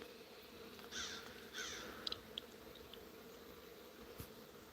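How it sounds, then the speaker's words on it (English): Crows caw outdoors in two harsh calls close together, followed by a few faint clicks and chirps over a low buzzing of insects, the birds somewhat distant and no voices present. "These crows are communicating with each other."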